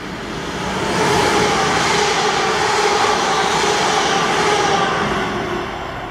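A DB Cargo freight train runs from Tees Docks to Grangemouth, its steady broadband rumble and rush building over the first second, holding level, then easing slightly at the end, with no voices.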